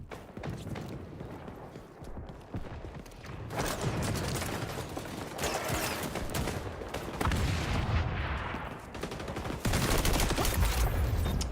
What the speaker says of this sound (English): He's shooting through my wall.